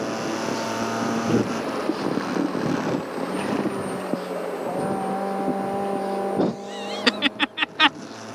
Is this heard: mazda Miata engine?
yes